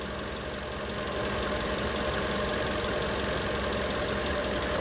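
A Vauxhall Corsa D 1.2 engine idles steadily, with a dense, even low rumble and a faint ticking knock running throughout, with no talk over it.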